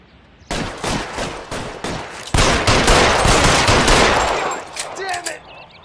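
Gunfire in the 1940s crime video game L.A. Noire, a loud close burst of rapid automatic shots followed by dense overlapping firing that tapers off into scattered shots.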